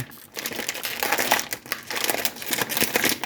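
A Quest protein chip bag's crinkly plastic packaging rustles and crackles up close in quick, irregular bursts.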